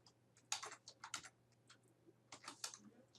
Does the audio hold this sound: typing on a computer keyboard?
yes